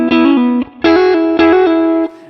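Electric guitar playing pentatonic double stops held on one shape, with hammer-ons and pull-offs, through a distorted effects chain; three sustained phrases ring out loud and close, with brief gaps between them and no voices.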